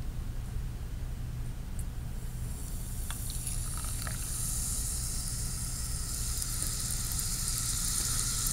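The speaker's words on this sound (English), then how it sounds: "We're seeing bubbling, fizzing, and that is a result of the magnesium ribbon reacting with the hydrochloric acid" Magnesium ribbon reacting in 1 molar hydrochloric acid in a beaker, a faint, steady fizzing hiss that grows slightly brighter over time, with a few tiny clinks and no talk.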